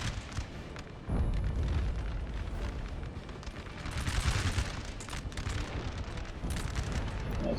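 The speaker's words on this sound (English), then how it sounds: "That was a nice volley there from the artillery." Artillery volley in Napoleon Total War: a dense, rumbling wash of distant cannon booms and crackling fire that swells sharply after the first second and rolls on loudly throughout.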